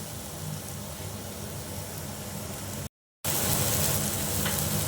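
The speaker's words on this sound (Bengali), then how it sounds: "জলপাইগুলো দিয়ে এবার আমি ভালো করে কষিয়ে দেবো।" Olives sautéing in a pan for a Bengali olive chutney, giving a steady, dense sizzle-and-fry hiss that runs loud and close throughout, broken by a short silent gap before resuming slightly louder.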